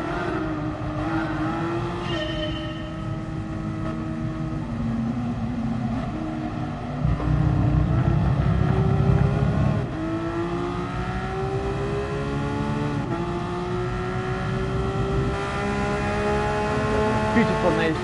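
Porsche race car engine in the Gran Turismo Sport video game, racing in pouring rain: a loud, continuous engine note rising and falling through repeated gear shifts and revs, steady throughout without speech.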